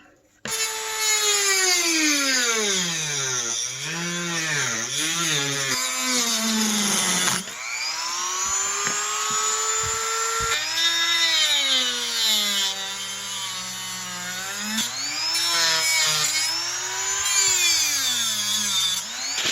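A power tool cuts through PVC pipe shaped into a samurai sword, a loud close whine that repeatedly dips and recovers in pitch as it bites, with short pauses between passes and no talk.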